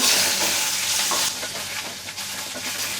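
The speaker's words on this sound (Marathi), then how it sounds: "आता ही फोडणी चांगली परतून घेऊया" Tempering spices with curry leaves, dried red chillies and asafoetida crackle and sizzle loudly in hot oil, a steady dense hiss with scattered pops and occasional stirring scrapes, no voices.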